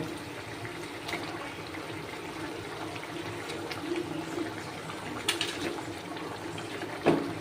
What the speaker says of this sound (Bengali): ঝোলটা ফুটছে সামান্য একটু জল দিয়েছি